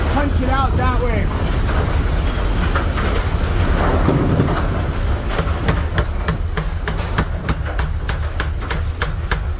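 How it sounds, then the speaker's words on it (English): Repeated metallic hammer blows punching out the pin wheel drive shaft of a Brunswick A2 bowling pinsetter, sharp strikes coming in a fast series toward the end, with voices and machinery noise earlier. "We're going to hammer."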